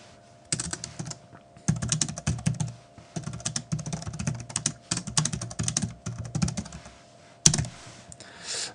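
Typing on a computer keyboard in short bursts of rapid clicking keystrokes, separated by brief pauses, close and clear.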